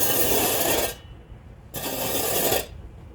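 Shovel pushing and scraping loose soil and sand while leveling ground for outdoor flooring, two long rasping strokes close by with a short pause between, no talking.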